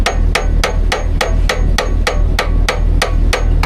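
A hammer strikes metal in a steady rhythm of about a dozen sharp, loud blows roughly a third of a second apart, close up over a constant low hum, with no talking.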